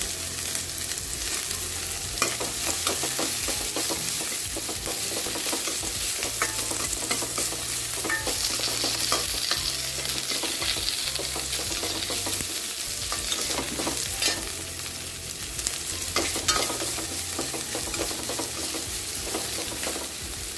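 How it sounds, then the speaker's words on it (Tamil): Onion, garlic and curry leaves sautéing in a pan for a bitter gourd dish, with a steady dense sizzle and frequent stirring scrapes throughout, close and continuous with no talk. "வெங்காயம் ஒரு பாதி அளவுக்கு வதங்கணும் பூண்டு போட்டுடலாம் கருவேப்பிலை போட்டுடலாம்"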